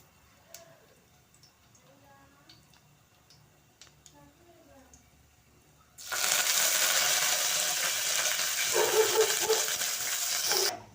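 A tempering of curry leaves hits hot oil in a pan for a tamarind stew of okra, cucumber and drumstick, bursting into a loud, steady hiss of sizzling that runs on after quiet talk and faint clinks.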